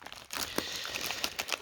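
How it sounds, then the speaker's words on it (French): Crinkly plastic wrapping of a Swedish military ration pack of cheese biscuits torn and crumpled open with both hands, close and brisk, in sharp irregular bursts. "Donc il faut les 2 mains pour l'ouvrir."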